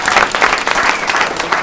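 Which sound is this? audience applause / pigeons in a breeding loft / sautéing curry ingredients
audience applause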